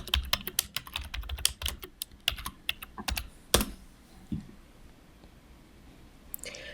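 A password is typed on a computer keyboard in quick, uneven bursts of close, crisp key clicks, then a pause with one soft thump and a last few taps near the end.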